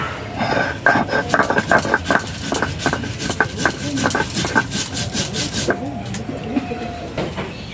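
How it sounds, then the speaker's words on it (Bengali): Cumin seeds are ground into paste on a grinding stone, making rhythmic back-and-forth scraping and rubbing strokes at close range, with faint kitchen background noise. "জিরেটা আমি এখন বেটে নেব।"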